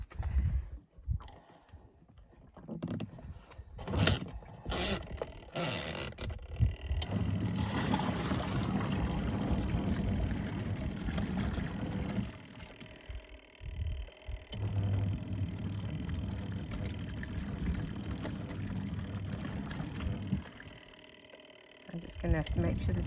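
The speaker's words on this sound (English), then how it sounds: "Let's see if this can operate the camping washing machine." A camping washing machine runs off a portable power station at an off-grid homestead, its steady motor hum and churning drone continuing for most of the stretch while a person talks over it.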